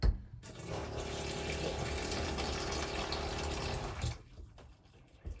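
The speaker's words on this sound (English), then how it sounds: "When that water tank is full to the brim, as soon as you get a bit out, it sucks air and then pops." Water running into a sailboat's onboard fresh-water tank, a steady close gush and gurgle through the filler for about four seconds before it stops, followed by a few faint knocks.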